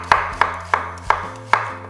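Five crisp knife strikes through onion on a chopping board, evenly spaced and close, each a sharp tap that fades quickly, sliced for a fig and onion chutney.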